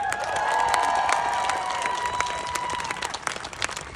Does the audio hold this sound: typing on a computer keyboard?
no